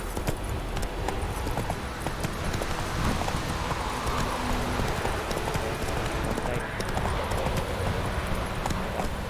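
A horse gallops in The Witcher 3 video game, its rhythmic hoof clip-clops steady and close throughout, with someone talking over the hoofbeats.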